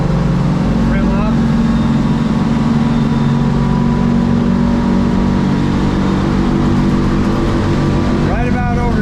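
A 2020 Edge Marine boat powered by a Yamaha F250 outboard accelerates onto plane. A loud, steady engine drone with deep low rumble runs throughout, over constant wind and water noise.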